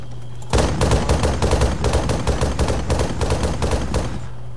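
Dense, sustained gunfire in Arma 3's Altis Life mode, a fast close-range rattle of automatic shots that runs without a break after a brief quiet start.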